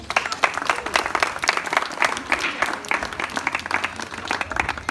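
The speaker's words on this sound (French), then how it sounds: "merci beaucoup pour ces applaudissements pour lui" An audience claps continuously at the opening of a storytelling festival held at a farm, a dense, even round of applause sustained throughout.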